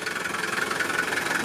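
A vintage 1969 Mercedes diesel engine idles close by with a steady, even clatter and a low rumble that holds throughout, with no voices.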